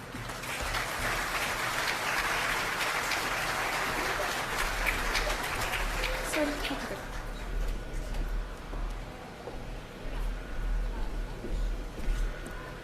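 Audience applause welcoming Chief Claire Salt of the Mississaugas of the Credit First Nation at a hospital groundbreaking in Mississauga, dense steady clapping that thins out and fades after about seven seconds.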